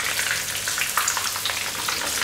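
Breadcrumbed lamb chops coated with garlic, herbs and parmesan fry steadily in a pan, giving a continuous dense crackling sizzle close by, with no talking.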